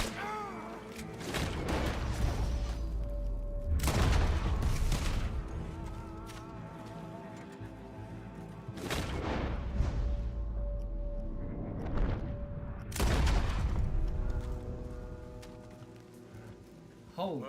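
Gunfire in Red Dead Redemption 2, with three heavy booming shots spaced several seconds apart, each ringing out with a long decaying tail over ambient game sound.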